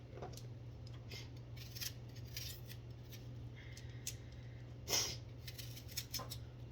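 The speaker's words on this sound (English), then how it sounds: "We have our onion. And we just want to cut that baby up" A knife cuts up an onion on a board, producing faint, irregular crisp taps and slicing clicks over a quiet background hum.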